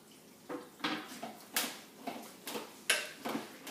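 Crock pot chili being stirred in a pot, a series of about eight close, regular knocks and scrapes of a spoon against the pot, fairly quiet with no talking.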